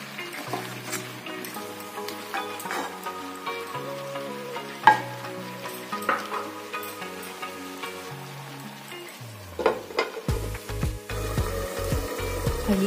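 Pumpkin sabzi cooks covered over a low flame, a soft steady sizzle and frying crackle running under kitchen music throughout, with a few louder pops and lid or utensil knocks along the way.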